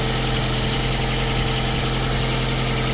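Steady, close idle of a VAZ 2112 16-valve car engine after a cylinder head gasket replacement, with a constant low rumble and slight vibration, running evenly throughout without any voices.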